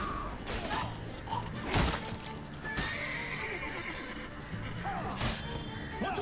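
A warhorse neighs and whinnies in a video game battle, with clip-clop hooves, a shattering crash and thuds in a busy combat mix and faint voices.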